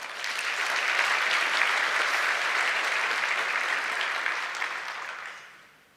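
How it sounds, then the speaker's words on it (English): Sustained applause from a graduation audience for a live orchestra, a dense steady wash of many hands clapping at once that holds strong for several seconds before fading out at the end. "Another round of applause for them."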